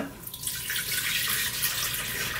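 Water pours steadily from a tap into a blender jug for a smoothie, a continuous bright splashing stream that runs alone and close throughout.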